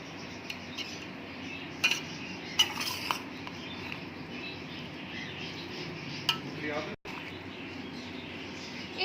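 Raisins being stirred into a bowl of dahi pakoriyan, a spoon clinking and scraping against the bowl in a few sharp taps over a steady low background, close and fairly quiet.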